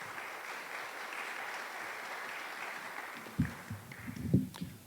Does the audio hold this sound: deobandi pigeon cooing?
no